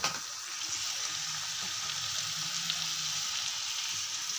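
Three chopped tomatoes tipped into a hot pan, giving a steady close sizzle with faint stirring, moderately quiet and free of talk.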